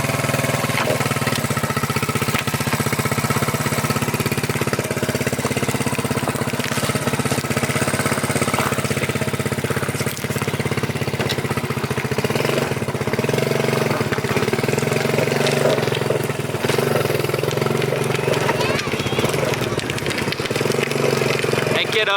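A Honda ATC70 three-wheeler's small engine runs steadily and loudly throughout, its buzzing drone rising and falling as it works through the gears.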